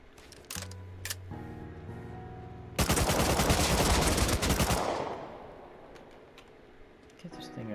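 Loud burst of gunfire in the survival game Rust, a dense roughly two-second volley up close that trails off, with scattered shots and game sounds before and after.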